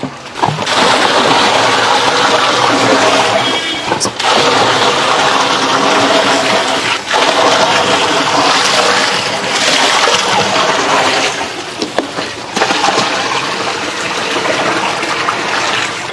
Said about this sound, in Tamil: இப்போ தண்ணி ஏற்றலாம்